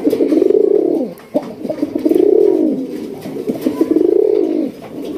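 Raj Golla pigeons cooing close by in a loft, three long rolling coos in a slow repeating rhythm with soft gaps between them.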